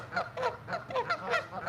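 Geese honking in a repeated series of calls, roughly six or seven honks over a couple of seconds, clear and fairly close, with steady low background rumble and no speech.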